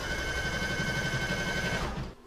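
An embroidery sewing machine stitches a baby bib held in the hoop: a close, steady mechanical whir with a rapid needle rhythm runs for about two seconds, then stops abruptly.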